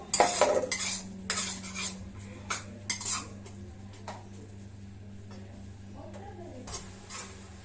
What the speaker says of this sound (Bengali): আমি যে কাঁচা পেঁয়াজগুলো দেখো রেখেছি সেগুলো এবার এর মধ্যে একটু দিয়ে দেবো দিয়ে একটু নাড়িয়ে নেবো